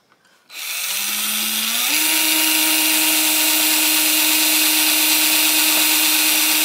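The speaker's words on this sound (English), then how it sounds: "You want to drill the Forstner hole first because it's got the tip point." Power drill boring a Forstner bit hole into an archtop guitar during a neck reattachment; the motor spins up after a short pause and whines steadily and loudly, its pitch rising slightly, then holds a constant drone to the end.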